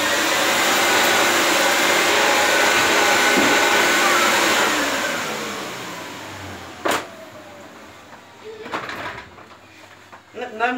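A 1997 Dyson DC01 De Stijl vacuum cleaner runs with a loud, steady whine for several seconds, then winds down and falls quiet. A few sharp clunks follow, and a voice talks near the end.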